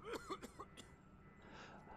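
A character coughs in the dark inside the Alien Isolation game, a few brief, rough coughs close together at the start, then quieter ambient hum.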